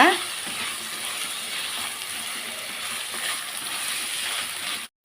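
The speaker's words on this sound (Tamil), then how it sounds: "இது நல்லா வதக்கிடுவோம் அந்த எண்ணெயில்." A steady, dense sizzle of beetroot sautéing in hot oil, continuous and fairly loud, cutting off abruptly at the end.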